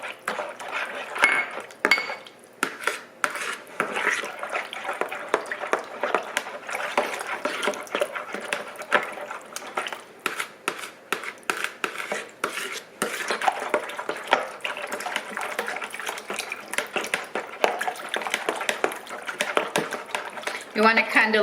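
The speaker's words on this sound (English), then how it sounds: "it's saying to stir in the yeast until it's dissolved" Yeast being stirred into lukewarm liquid, a busy run of clinks, taps and scraping of a utensil against a bowl, continuous and close, with a voice talking over it.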